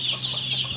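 Local farm chickens cluck softly while pecking at scattered grain, a brief, close, steady chatter of fowl with a faint hum underneath.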